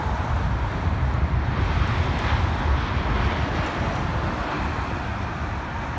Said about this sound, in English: Is this an BA320? Interesting. It's a rogue arrival. Oh, we're landing on here now